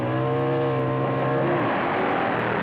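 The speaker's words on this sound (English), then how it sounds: "It's a Harley in the near lane against a Triumph in the far lane, both double-engine machines." Harley and Triumph double-engine drag motorcycles launch side by side at a 1974 NHRA national event at Indianapolis, a loud, dense, steady engine roar held at full volume throughout.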